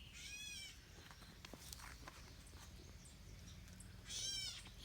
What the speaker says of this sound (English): the bird sounds like a cat.